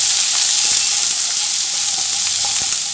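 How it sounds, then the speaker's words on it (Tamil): Small shallots sauté in hot oil in a pan for a mutton paya, making a loud, close, continuous frying hiss with faint stirring ticks and no voices. "சின்ன வெங்காயம் வதங்கி நல்லா கலர் சேஞ்சாக வரட்டும்"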